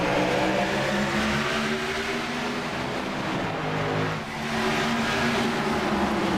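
A pack of NASCAR Cup Series stock cars in the iRacing sim at Martinsville, Toyota and Chevrolet among them, drones and accelerates together in a steady, loud engine roar with a brief dip near the end.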